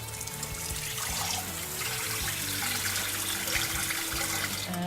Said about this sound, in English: and I put water in here.